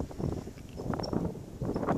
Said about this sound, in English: I don't know if you can hear me with this wind.